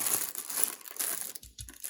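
Plastic film packaging on a newly bought LogicPower LPM-U825VA UPS crinkles as it is pulled off, a close, continuous crackling rustle that tapers into a few softer handling noises.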